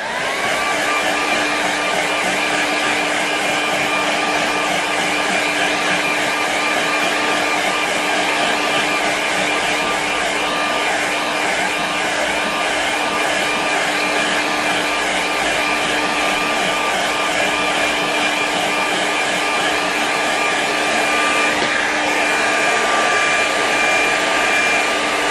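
A hair dryer blows close and loud in a constant steady whoosh with a high whine as it dries a watercolour painting, running unbroken without any talk throughout.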